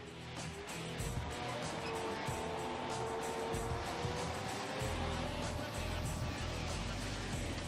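A Bradley armoured fighting vehicle drives with a steady, rumbling engine drone and broad mechanical noise, continuous and fairly loud throughout.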